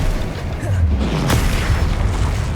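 A Confringo fire spell bursts in Hogwarts Legacy during combat, a loud, deep boom with a rumbling, crackling tail and a sharp burst partway through.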